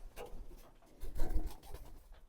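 Shirazi pigeons cooing softly in their loft, a few low murmuring coos building briefly in the middle of a short, quiet stretch.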